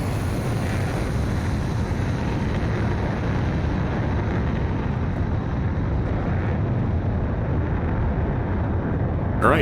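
An M2000 jet in a flight simulator roars down the runway and lifts off, a loud, steady broadband engine rush that holds throughout.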